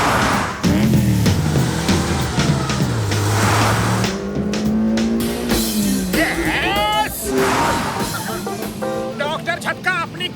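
Cartoon race cars drive with revving engines and squealing tires, loud and busy throughout, while animated characters talk and shout over them.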